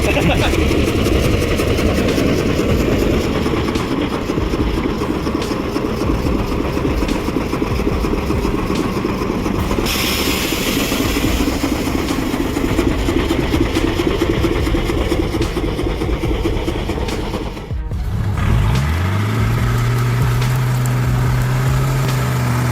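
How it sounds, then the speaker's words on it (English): A loud truck engine strains and drones continuously while stuck in thick mud, its pitch rising to a sustained whine near the end, with a churning, grinding texture underneath. "The whine of the engine, the sound of thick mud being torn apart"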